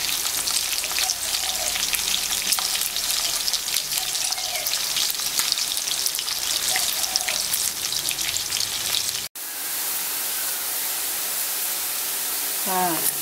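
Pork fat frying into cracklings in a pan, a dense, loud, continuous crackling sizzle heard up close, cutting off abruptly and then returning as a softer hiss.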